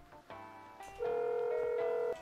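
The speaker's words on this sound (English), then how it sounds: "Make a phone call to Duff." A phone call connects in Dave the Diver with a few short dial tones, followed by a steady electronic ringing tone held for over a second.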